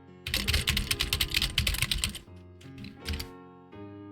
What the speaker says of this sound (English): Should I use that to get a quieter keyboard?